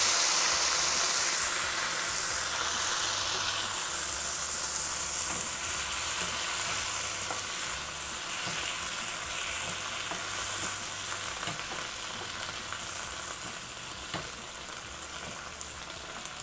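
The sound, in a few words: vegetables sautéing in a pan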